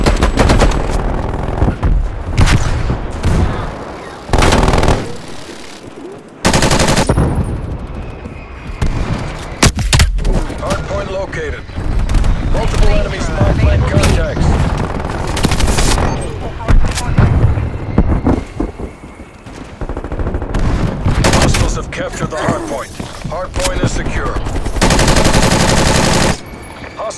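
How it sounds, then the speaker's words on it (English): Artillery barrages and gunfire from a video game battle, with dense, loud bursts of shots and heavy booming impacts rolling almost continuously, broken by brief lulls. "Artillery targeting active. Hardpoint contested. Get called. Incoming artillery."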